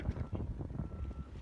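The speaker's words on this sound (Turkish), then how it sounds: "Hava rüzgarlı." Wind gusting across an open outdoor site where a tent is being set up and grounded, a steady low rumble of buffeting on the microphone with uneven pulses throughout.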